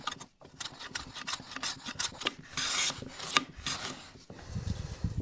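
A blade cuts long, thin, full-length wood shavings in a close series of dry rasping strokes, each pass separated by a brief pause, fairly loud and up front.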